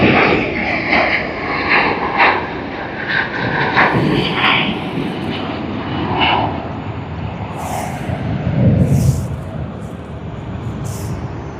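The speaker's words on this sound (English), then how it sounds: "A350 of Cathay Pacific now on its takeoff roll for its flight to Hong Kong" A Cathay Pacific Airbus A350 roars through its takeoff roll at Sydney Airport, a loud, sustained broadband jet-engine rumble heard from a distance, with a few faint higher sounds near the end.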